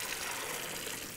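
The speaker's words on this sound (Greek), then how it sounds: "βάζουμε κρύο νερό μέσα στην κατσαρόλα μας" Cold water pours steadily from a kitchen tap into a cooking pot, a continuous close-up gush with no talk over it.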